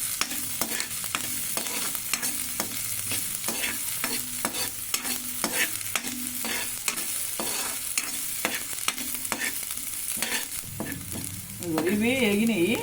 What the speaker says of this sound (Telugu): ఈ పచ్చితనం పోయేదాకా వేయించుకోవాలి.